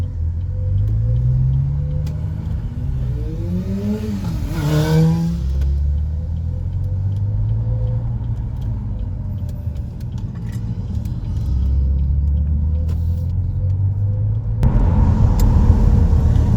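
A tuned Vauxhall VXR engine drones steadily while driving, with a brief rising rev midway and a low road rumble throughout, close and fairly loud inside the car.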